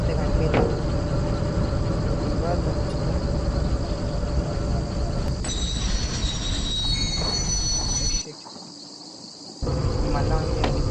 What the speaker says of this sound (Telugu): ఇప్పుడైతే ట్రైన్ ఆన్ చేసేసినాం.